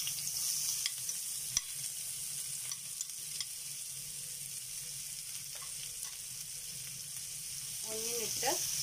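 Onions sizzle steadily in hot oil in a pan while being sautéed for a baked beans (fasooliya) dish, a continuous crackling fry with a few faint utensil taps and a brief clatter near the end.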